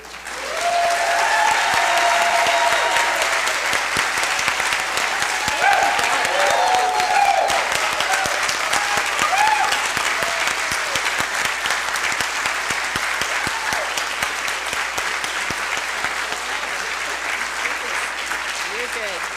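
Sustained, loud applause from a large audience welcoming a newly presented college president at an inauguration, with cheering voices rising over the clapping early on before it settles into a long steady roar.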